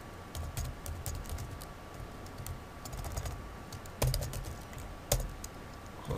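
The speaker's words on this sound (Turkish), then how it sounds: "Onun SQL cümlesini yazayım." Fingers type an SQL statement on a computer keyboard in a quiet room, producing a quick, irregular run of close, crisp key clicks with a few heavier strokes and no talking.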